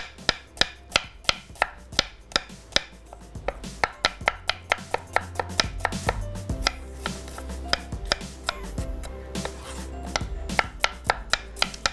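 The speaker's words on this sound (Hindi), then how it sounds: "यहाँ पे प्याज को बारीक हमने स्लाइस कर लेना है" An onion being finely sliced with a knife on a board, a long run of rapid, steady chopping taps, close and crisp, with no voices.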